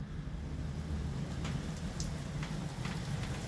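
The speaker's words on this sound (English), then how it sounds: "Sounds like a rainy night in North Jersey." Rain comes down at night outside a North Jersey stoop, a steady low rushing hiss with occasional faint drips and splashes, fairly quiet and continuous with no voices.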